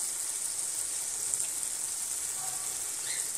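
Sizzling in a pan as a little raw mustard oil goes into Bengali aloo posto, potatoes with poppy seeds, a steady soft hiss of frying with no talk.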